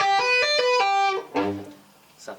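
An electric guitar plays a fast tapping lick of hammer-ons and pull-offs. Clear ringing notes run in quick succession, then a lower phrase and a fading final note, heard alone and close.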